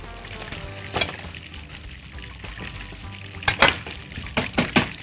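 Pepper gets stirred into a simmering spaghetti and meatball sauce in a pan, with a low bubbling sizzle underneath and several sharp scrapes and clinks of the utensil against the pan, bunched toward the end.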